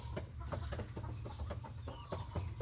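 Two-month-old chickens cluck repeatedly in short, irregular calls, close by and moderately loud over a steady low background hum, with no voices.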